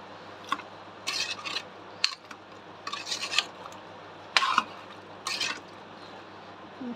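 A spoon stirring vegetables and chili powder in a metal pot, a series of short scraping and rubbing strokes with occasional clinks, close and irregular.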